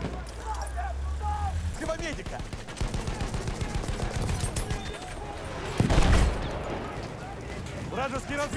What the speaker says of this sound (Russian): У них пулемет!